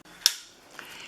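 A paper trimmer slices once through cardstock at close range, giving a single sharp snap followed by a faint, brief click, in an otherwise quiet room.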